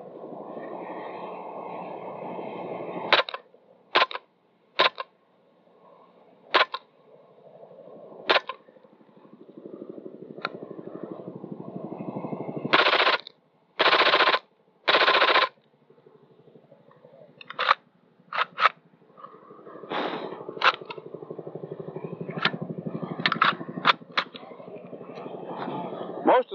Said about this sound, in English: Now I'll fire this one the same thing, a few shots in the semi-automatic mode, and then go to the full automatic mode.